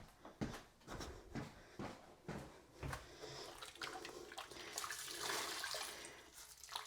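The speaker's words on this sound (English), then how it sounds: "I'm going to rinse my cloth off real quick." A cleaning cloth is rinsed under a running tap, starting with a few splashing bursts and slaps, then a steadier, louder rush of water in the last few seconds.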